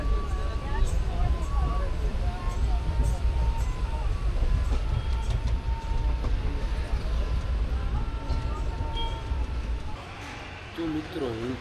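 Steady rumble and clickety-clack inside a moving passenger train heading to Bathinda, continuous and close throughout, with voices chattering in the carriage.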